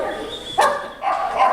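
A dog in a park lets out one sharp, close bark over faint background noise, and a softer whine or yip follows a moment later.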